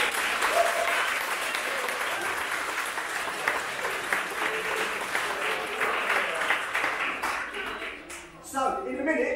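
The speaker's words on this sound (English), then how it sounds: "So please give yourselves a round of applause." Wedding guests at a barn reception applaud in a long, full round of clapping that tapers off near the end as a voice starts speaking over the last few claps.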